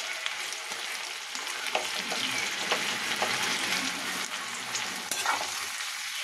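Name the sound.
spice paste added to frying potatoes, onion and garlic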